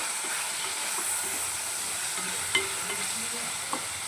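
Tomatoes frying in a pan for cabbage palya give a steady, close sizzle with a few soft stirring scrapes and a couple of sharp clicks, no voices.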